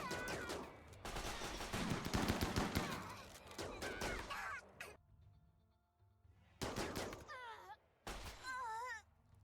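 Minigun gunfire in RimWorld, dense bursts of rapid shots in the opening seconds, then quieter stretches broken by short renewed bursts, mixed with groaning and whining game sounds.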